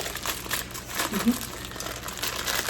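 A plastic bag of white chocolate chips crinkles and rustles close by in short bursts, with a voice murmuring faintly underneath.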